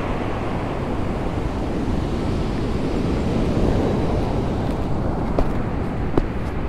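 Large ocean waves on the beach at Oxnard, California, a loud, steady wash of surf with wind buffeting the microphone and a couple of faint clicks near the end.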